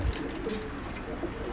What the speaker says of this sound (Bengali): তো বিভিন্ন ভ্যারাইটির কবুতর পেয়ে যাবেন এখানে, বেশিরভাগ হাই ফ্লায়ার আর পাঙ্কি ব্লাড লাইনের